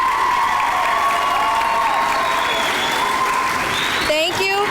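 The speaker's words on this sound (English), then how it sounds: "Give them a big round of applause." A graduation audience at a Robert E Lee 6th grade ceremony gives a steady, sustained round of applause, loud and unbroken throughout, with a few voices and a faint tone running beneath the clapping.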